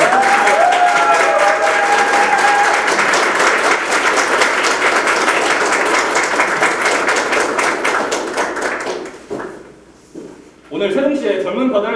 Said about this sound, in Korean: 여러분 큰 박수로 부탁드립니다.